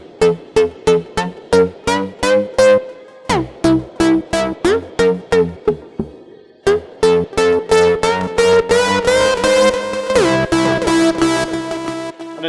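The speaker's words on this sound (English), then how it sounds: "great for this kind of distorted, aggressive kind of sound like this." A Korg KingKorg synth pushed through tube drive distortion plays loud, gritty staccato notes in a rhythmic riff, then sustained distorted chords with pitch bends, close and alone.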